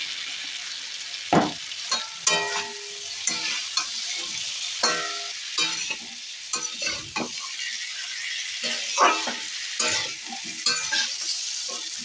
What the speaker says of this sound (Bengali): মিনিট আলুর সাথে নাড়াচাড়া করে নিচ্ছি মিনিট খানিক আলুর সাথে মশলাটা কষি নেওয়ার পরে